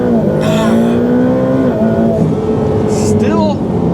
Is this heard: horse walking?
no